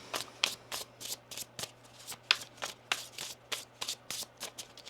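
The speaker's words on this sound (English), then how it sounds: "One more shuffle here." Tarot cards riffle and slap in a rapid shuffle close by, about a dozen crisp bursts in a loose, uneven rhythm with no talking.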